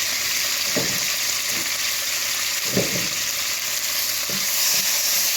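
Cumin and curry leaves sizzle in hot oil in a pan, a steady frying hiss broken by a few soft stirring scrapes, with no talking.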